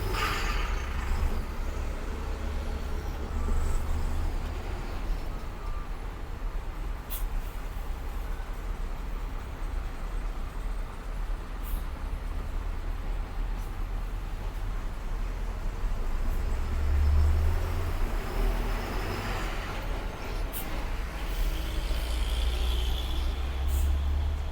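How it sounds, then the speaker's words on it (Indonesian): Congested traffic of trucks and buses on an Indonesian road during a diesel fuel shortage: a continuous low engine rumble with occasional hissing air-brake releases and passing vehicles, steady and close throughout. "Macet."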